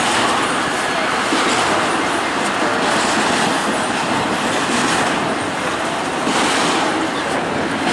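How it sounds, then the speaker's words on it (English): Intermodal freight train slowing down, with a loud, continuous rolling roar of wheels on rail and faint rhythmic clacking, heard close by and alone. "Slowing down that intermodal."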